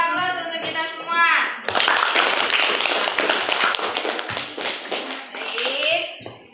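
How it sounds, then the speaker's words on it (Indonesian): A classroom audience at a school in Papua claps together in a burst of dense, brisk applause lasting several seconds, with a teacher's voice heard before and after it. "Sekali lagi beri aplaus untuk kita semua"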